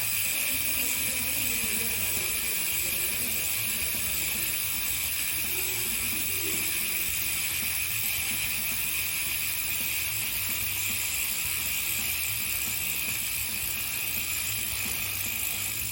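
Rear hub of a gravel bike with SRAM Apex flat-bar drivetrain, coasting: a continuous fast ratchet buzz of pawls clicking, steady and close throughout with a bright hissing texture and no pauses.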